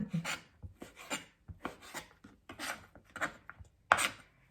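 Bacon chopped with a knife on a cutting board: a string of close, crisp, irregular thuds and scrapes, about a dozen strokes, heard alone in a quiet room.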